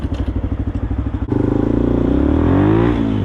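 A Benelli 125 motorcycle engine pulses in a rapid, throbbing idle, then revs up sharply and climbs through the gears in a loud, rising whine close by.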